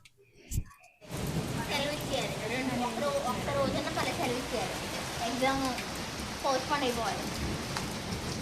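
Dense, steady rain pours down close by after a brief quiet start, with a sudden gust of wind and dust in the storm, while people talk over the downpour.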